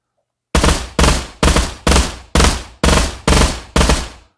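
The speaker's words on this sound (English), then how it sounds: "And now I'm gonna do some burst fire at first, and then I'll finish off with some single fire." Burst fire from a gun in the VR shooter Pavlov Shack: eight sharp, loud reports at an even rhythm about half a second apart, following a moment of silence, with no talking.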